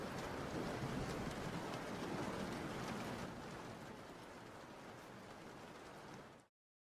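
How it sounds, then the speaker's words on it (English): Rain falls as a steady broadband hiss, fairly faint and continuous, easing slightly halfway through before cutting off, with no voices. "Raining lolol."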